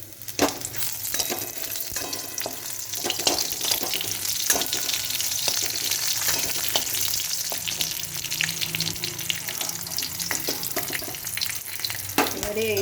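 Chillies frying in hot oil as vegetable curry tempering, giving a steady close sizzle with frequent crackles and pops and occasional stirring clatter across the whole stretch, without any talk.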